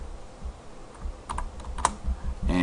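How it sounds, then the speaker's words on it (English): Quick, light keystrokes on a computer keyboard as a column name is entered, a few close taps over low background hiss. "I'm just going to go ahead and type in the column name that I want to work with"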